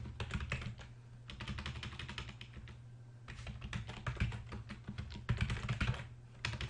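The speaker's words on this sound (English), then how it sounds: "I can't type today" Rapid typing on a computer keyboard, close and clear, with dense bursts of clicking keystrokes separated by brief pauses, over a low steady hum.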